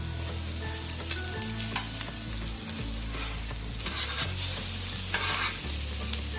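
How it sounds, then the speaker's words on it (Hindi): Shami beef kababs fry in a pan over a low flame, a steady close sizzle with soft scraping and stirring sounds, no voices. "इसको हल्की फ्लेम पे आपने फ्राई करना है ताकि क्रिस्पी हों।"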